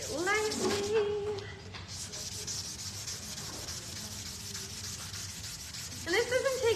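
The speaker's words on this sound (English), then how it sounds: "your little kits will also come with the sandpaper, so you are able to sand it" Light hand sanding of wood with sandpaper for a small maker kit project, a soft steady rubbing scratch close by, with brief voice-like tones at the start and end.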